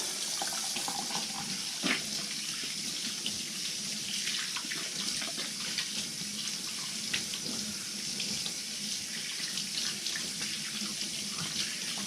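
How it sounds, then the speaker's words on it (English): Water runs steadily from a tap into an RV sink, a constant splashing rush with a few small clunks, no talking. "start running some water in here"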